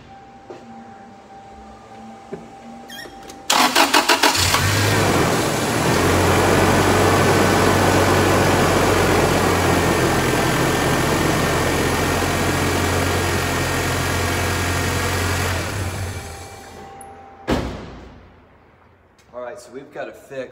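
A 1998 Toyota Tacoma with a 2.4-liter four-cylinder, recently repaired for a misfire, cranks and starts abruptly, then idles steadily and loudly for about twelve seconds before shutting off. Some faint sounds follow.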